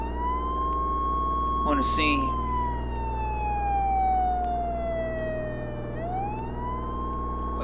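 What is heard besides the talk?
ambulance siren passing by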